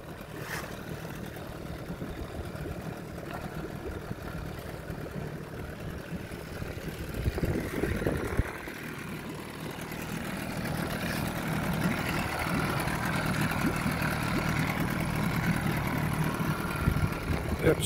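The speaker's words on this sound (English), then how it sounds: "That startup gas engine," A gas outboard engine on a fishing boat runs steadily in a 10-mile-an-hour wind, a constant mid-level drone that grows a little louder after a brief bump partway through.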